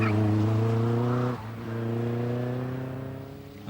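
A car with traditional suspension drives past in a 1984 demonstration, its engine a steady droning hum that dips briefly and then resumes, fairly loud and close, with no talk over it.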